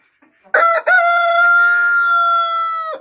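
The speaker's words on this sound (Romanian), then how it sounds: "mi-am achiziționat ieri un cocoș de Faveroles pe negru, varietatea neagră" A black Faverolles rooster crows once up close, a loud, clear call that starts with a short broken note and then holds a long sustained cry for about two seconds before cutting off.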